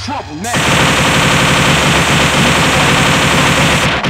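Rapid automatic gunfire from a MUGEN fighting game rattles on loudly and continuously after a brief opening with a voice, then cuts off sharply near the end.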